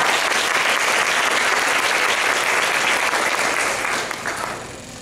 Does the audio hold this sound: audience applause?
yes